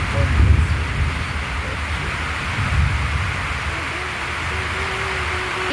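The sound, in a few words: heavy rain falling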